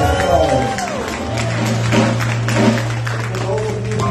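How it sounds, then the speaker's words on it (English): A Baptist church congregation applauds the keyboard musician at morning worship, a moderate round of clapping under a sustained organ-like tone and crowd murmur, with a voice speaking over it. "I'll give him a round of applause."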